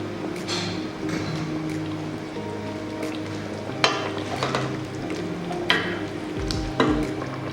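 Lamb stew with vegetables being stirred in a pot, with wet sizzling and bubbling, soft scraping stirs and a few sharper clinks of a utensil against the pot, fairly close and steady throughout.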